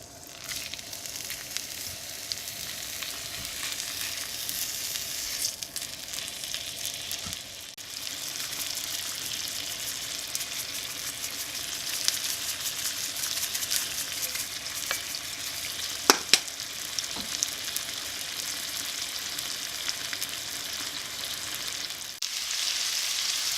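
Steak sears steadily in a hot cast iron skillet with butter, rosemary, garlic and thyme, a continuous crackling sizzle with occasional sharp pops and a brief clink partway through.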